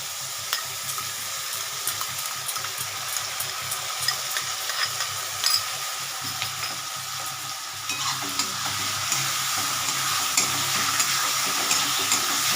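Onions and spices fry in a pan for a chicken curry, a steady close sizzle with repeated scraping stirs and clinks that grows louder toward the end.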